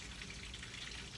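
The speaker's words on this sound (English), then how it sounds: "I'm cooking bacon, that's the noise you hear" Bacon frying in a pan gives a steady, soft, broadband sizzle with faint crackle under it, heard at a distance, followed by a brief louder knock at the very end.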